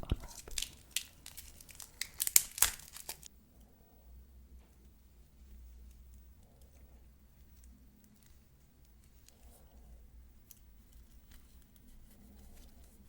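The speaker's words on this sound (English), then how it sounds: "Just gonna unwrap it. Listen to the sounds." Packaging around a Nodus Sector Glacial watch crinkles and tears close up for a few seconds, a quick flurry of sharp plastic and paper rustles, followed by near silence with faint soft handling.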